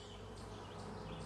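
Honeybee drone buzzing loudly and continuously in close range, a steady insect hum with no pauses.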